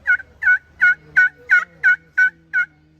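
A slate friction turkey call imitates a turkey with eight evenly spaced, sharp yelping notes, loud and close, repeating in a steady rhythm with a faint low hum beneath.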